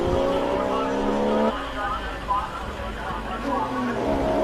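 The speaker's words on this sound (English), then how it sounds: "Phenomenal noise from this Porsche GT3." Porsche GT3 race car powering up a hill climb course at the Simola Hillclimb, its loud engine note rising and shifting through gears, with crowd or commentary voices mixed underneath.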